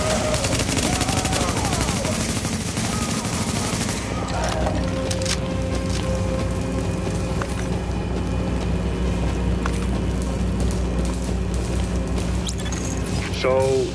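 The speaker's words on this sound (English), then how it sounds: "So, that shooting, that was you, right?" Gunfire in the video game Tom Clancy's The Division, rapid bursts of shots and booms crackling through a dense, loud game soundscape that runs the whole time, with voices talking over it.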